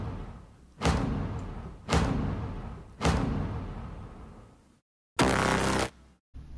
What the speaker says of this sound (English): On the offbeats, you will hear some hits. I'm using the Elements Hit Set 3.